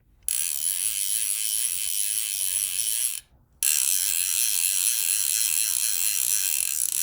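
A Hardy Perfect fly reel's ratchet gives a rapid, steady buzzing click as line is pulled off, in two long bursts split by a brief pause, close and alone.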